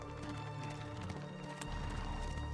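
Horse hooves clip-clop at a gallop in the video game Assassin's Creed Mirage, a steady rhythmic pounding that holds close and loud over a low background hum.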